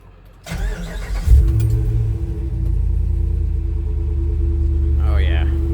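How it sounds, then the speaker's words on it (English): A truck with a 6.1 Hemi engine cranks and fires up close by, then settles into a loud, steady, deep idle rumble, with a brief voice near the end. "Oh yeah, I love the sound of this truck."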